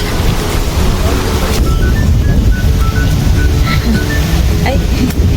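Ocean waves wash onto a beach as a constant broad roar and hiss, with wind buffeting the microphone and faint voices in the background.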